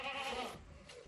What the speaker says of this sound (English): Every day, this couple milks these goats who they consider to be part of their family